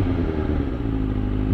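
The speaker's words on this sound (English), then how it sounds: "just the way this bike is idling, it is so smooth" A Kawasaki Ninja ZX6R motorcycle idles nearby, a smooth, steady low engine rumble with even loudness and no talking throughout.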